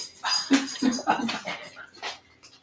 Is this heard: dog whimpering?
yes